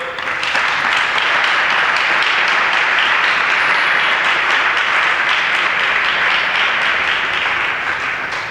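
Audience applause welcoming a speaker at a Brindavan gathering, dense sustained clapping from a large crowd, loud and even throughout with no pause.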